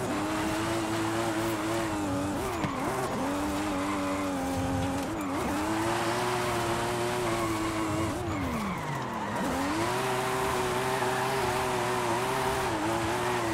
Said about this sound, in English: Kind of clutch kicking and keeping her sideways.